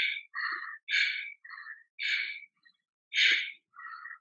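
Forceful yoga Vastrika breathing through the throat: a rapid series of loud, rasping exhales and inhales in short bursts, about eight breaths over four seconds, close and alone.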